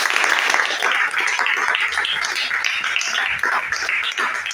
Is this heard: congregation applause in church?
yes